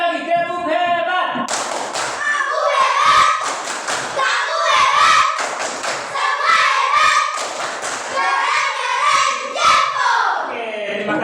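A classroom of children doing a rhythmic group clap, repeated patterned bursts of claps and thumps mixed with loud chanting voices, close and lively throughout.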